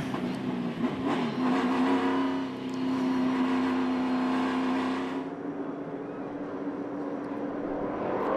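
NASCAR Cup stock cars at the green flag of the 2021 Kansas 400, a dense, loud roar of many engines building together with a rising drone, then thinning slightly as the pack pulls away.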